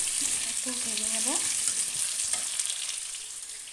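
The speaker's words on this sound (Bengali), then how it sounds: "দিয়ে আলুটাকে হালকা একটু ভেজে নেব।" Salted potatoes fry lightly in oil with a continuous sizzling hiss, stirred now and then, and a short rising tone early on.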